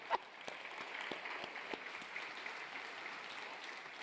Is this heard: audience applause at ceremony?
yes